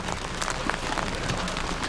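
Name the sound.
large hail falling during tornado storm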